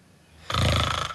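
Loud, rasping snore rises suddenly after a quiet moment and holds as one rough, rattling inhale, close to the listener.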